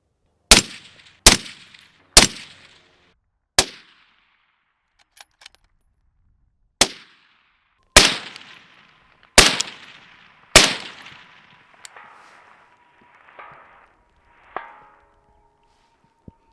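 Rifle shots fired from a tripod-supported shooting position crack out one at a time, about nine sharp loud reports with ringing decay and quiet gaps between.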